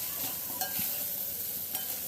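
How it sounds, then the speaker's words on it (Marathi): Raw mango rice being stirred and sautéed in a pan, a soft steady sizzle with light scraping stirs, close and fairly quiet, no voices. "इथे आता आपण जो राईस आहे तो व्यवस्थित मिक्स करून घ्यायचे या पद्धतीने आणि व्यवस्थित आपल्याला परतून घ्यायचं आहे"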